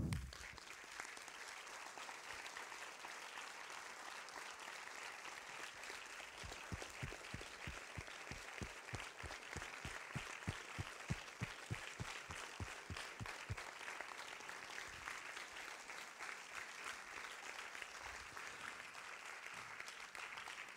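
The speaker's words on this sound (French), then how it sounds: "un grand cinéaste, Frédéric Wiseman, que je vous demande d'applaudir." An audience applauds a guest filmmaker at a festival talk, with sustained, distant clapping across the whole stretch and a denser run of sharper, closer claps in the middle.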